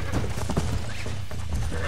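Horse hooves clip-clopping in Red Dead Redemption, with a short whinny, a steady close trotting rhythm over low game rumble and faint background voice.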